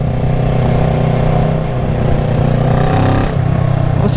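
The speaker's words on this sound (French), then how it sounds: "Et on reconnaît là bien le petit bruit du bicylindre." Close, steady drone of a Kawasaki ER6-N twin-cylinder motorcycle engine, a 2014 model, running loud with slight rev variations and a brief dip near the end, no voices.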